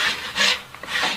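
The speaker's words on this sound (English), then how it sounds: "you can rasp that off" A rasp files sharp edges off a horse hoof in three rhythmic scraping strokes, close and clear, each a coarse gritty rub with brief gaps between.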